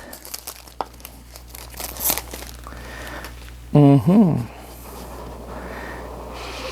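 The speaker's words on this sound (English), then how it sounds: "this is my favorite part, ripping off the plastics" Plastic wrap torn off Google Chromecast 3 packaging: close crinkling and ripping come in short bursts, with a louder tearing rasp around the middle, and the room otherwise quiet.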